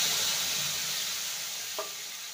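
Spice mix sizzling in hot oil with fried bay leaf tempering for a raw banana curry, a steady close hiss of frying with one brief clink midway, no talking.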